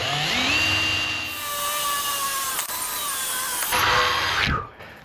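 A power drill bores a pilot hole into steel for a shade structure, whining steadily at close range for several seconds before a brief pause, then a final rising burst as the bit spins down.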